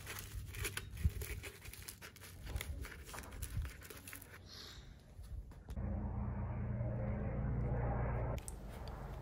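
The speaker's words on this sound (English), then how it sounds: "I'll add some aluminum foil just to make sure there's no direct contact with the foam" Aluminum foil is handled and crumpled at close range with crinkling, tearing rustles and sharp crackles, followed by a steadier low rumbling noise.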